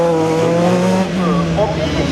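A yellow single-seater race car running at a slalom, its engine droning loudly and shifting pitch as it works the course, heard under a commentator's talk.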